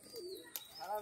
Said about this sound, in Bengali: এটা ধরা পায়রা কিন্তু একদম গাধা পায়রা